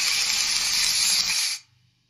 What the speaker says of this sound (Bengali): আরও 10 মিনিট খুব ভালো করে এটি মশলার সাথে সাঁতলাবো।